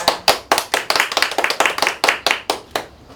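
An audience claps in welcome for a teacher at a children's safety class, giving loud, close, rhythmic claps that quickly fall into unison and fade toward the end.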